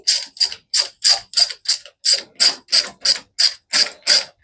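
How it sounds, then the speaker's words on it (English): Rapid ratcheting clicks as a lock nut is tightened on a John Deere crawler's final drive, about a dozen evenly spaced sharp metallic bursts, close and loud, with no talking. "All right, so I've driven the lock nut up to the top now."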